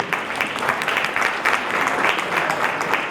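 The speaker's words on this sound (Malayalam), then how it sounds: "ഈ സിനിമയുടെ മേക്കേഴ്സിന് ഞങ്ങൾ പ്രേക്ഷകരുടെ നിറ കയ്യടി തരികയാണ്" Dense, continuous applause from a film audience for the makers of the Malayalam film Rekhachithram, an even roar of many hands clapping up close with no talk.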